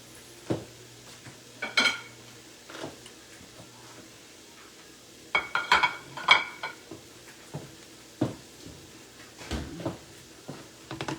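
Utensil clinks and scrapes from stirring tofu taco filling in a pan, in scattered bursts over a quiet kitchen background with a faint sizzle.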